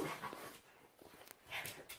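A Border Collie pants quickly and lets out a few soft, high whimpers, close by and fairly quiet, with no talking.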